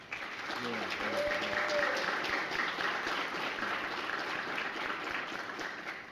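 Audience applause for LISD Honorable Cadets at a superior cadet ceremony, a sustained, even wash of many hands clapping for about six seconds before tapering slightly, with a voice faintly present.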